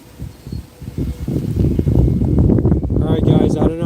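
Wind buffets a microphone outdoors, producing loud low rumbling gusts that build and persist, with a person talking underneath.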